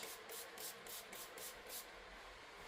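Quiet repeated hissing sprays, about eight short bursts in a quick even rhythm from a spray bottle of cleaner close by.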